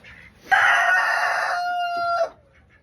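A rooster crows loudly and close by in a backyard chicken coop, one sustained call that fades out, with faint clucking before and after it.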